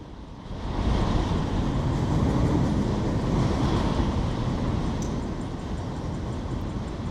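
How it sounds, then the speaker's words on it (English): A freight train rumbles through a tunnel in a train simulator set on the San Bernardino Sub near Los Angeles, a loud, steady low roar that builds quickly and holds with a faint rhythmic clatter, no voices. "Sounds like there's a train going through the tunnel."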